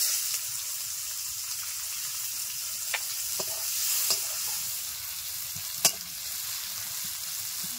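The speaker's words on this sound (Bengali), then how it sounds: "2 মিনিট নাড়াচাড়া করার পর পেঁয়াজগুলো লালচে হয়ে এসছে।" Chopped onions fry with black cumin seeds in a pan, giving a steady moderate sizzle broken by a handful of sharp spatula clicks and scrapes as they are stirred, with no voices.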